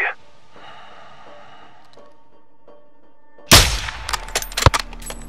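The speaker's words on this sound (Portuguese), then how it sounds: "Tiro limpo. Bom tiro" A single sharp gunshot cracks out in Call of Duty: Modern Warfare 2, loud and sudden after a quiet stretch with faint game ambience, followed by a few shorter thuds and rattles.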